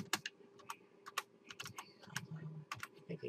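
Someone types a web address into a browser on a computer keyboard, a quiet, irregular run of close key clicks and taps with brief pauses between bursts.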